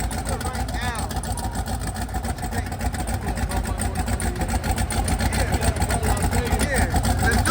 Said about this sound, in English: I'm trying to get an exhaust shot right now.